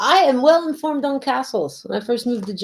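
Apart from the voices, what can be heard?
No distinct noise like a dog, phone or traffic.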